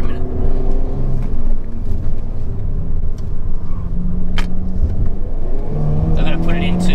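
A Hyundai Kona N in sport plus mode is driven hard, its engine droning and rising steadily in pitch from inside the cabin, loud and continuous, with someone talking over it.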